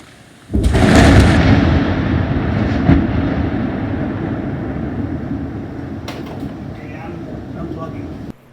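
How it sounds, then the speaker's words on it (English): A long, heavy rumble of thunder breaks in suddenly and rolls on steadily for several seconds, slowly fading, with a few faint clicks near the end. "Another big lightning storm today. Here, listen to this one"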